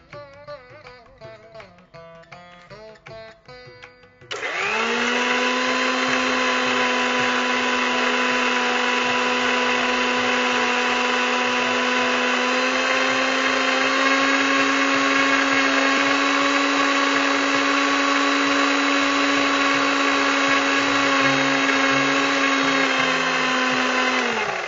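A kitchen blender grinds coriander and carrot into juice, starting abruptly and holding a loud, steady motor whine for about twenty seconds.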